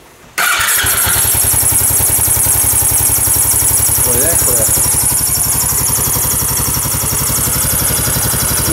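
A Suzuki Skywave 400 scooter, just fitted with its throttle body and showing a fuel-injection warning light, restarts with a sharp catch and then idles in a loud, even, throbbing putter close by while someone speaks briefly over it.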